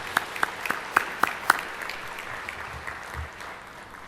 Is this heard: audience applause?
yes